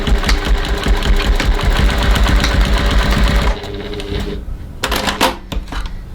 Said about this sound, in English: I'm going to top stitch 6mm 1/4 of an inch from the edge.